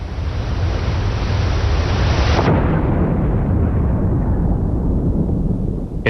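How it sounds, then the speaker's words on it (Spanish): A deep, roaring blast of rumbling noise from an explosion beneath the hull of the ship Britannic fills the whole span, its sharp top edge dropping away midway as the boom rolls on and slowly dulls. "una violenta explosión resonó bajo el Britannic."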